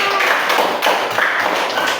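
A classroom of students claps for group 3 after their presentation, a brisk, close burst of hand claps in a steady patter that carries through the whole moment.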